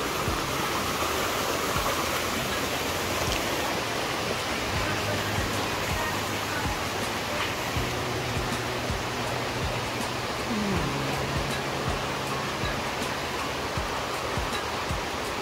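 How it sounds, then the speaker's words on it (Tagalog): River water flows strongly over rocks, a dense, continuous rushing roar that stays loud and even throughout, with faint voices beneath the water. "Parang lumakas yung tubig sa ilog dahil sa mga bato na kinuha ba."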